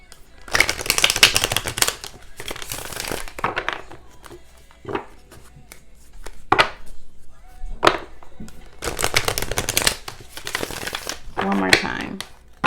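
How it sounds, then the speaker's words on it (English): Tarot cards being shuffled in bursts, riffling and slapping sounds close by, with pauses and a brief voice in between. "Let's just shuffle,"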